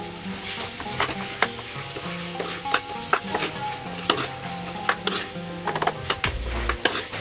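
Shrimp masala fries in oil while a spoon stirs it, giving a steady close sizzle broken by repeated scraping and tapping against the pan, with no talking.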